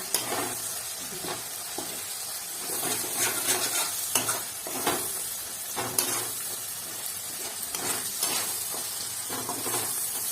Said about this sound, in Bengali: এটা একটু কষিয়ে নেবো মশলাটা